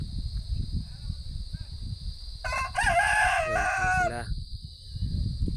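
A derby fighting rooster lets out one loud, drawn-out crow that rises and wavers before trailing off, over a rumbling outdoor background.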